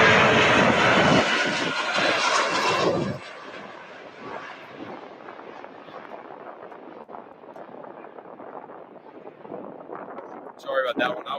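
A Boeing 757 taking off at Louisville airport: a loud, close jet-engine roar for the first few seconds, then a steady rumble that fades into the distance, with a voice talking.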